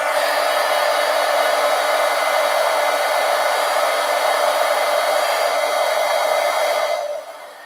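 A hair dryer blows steadily at close range to dry fresh paint on an artwork, a loud continuous whoosh that holds for about seven seconds before cutting off.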